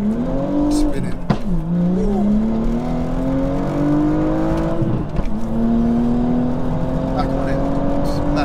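A 500bhp wide-body BMW M235i revs hard and spins its wheels, the engine note climbing in long sweeping pitches with a sharp rev drop and pickup partway through, loud and close throughout.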